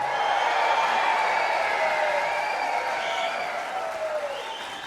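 A crowd at an orchestra concert cheers and applauds loudly on cue. The dense, steady clapping and whooping is close and continuous, then eases slightly toward the end.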